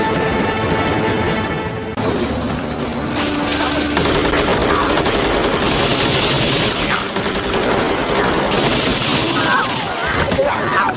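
Rapid bursts of machine-gun fire and gunshots ring out in a tense TV sci-fi siege scene, loud and sustained, with crashes and ringing impacts layered over a dense, continuous din.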